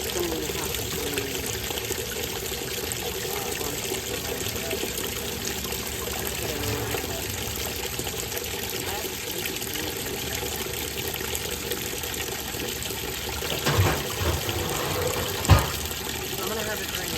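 Water drains in a continuous trickling flow during a restoration cleaning, steady and fairly close, with a couple of brief knocks near the end.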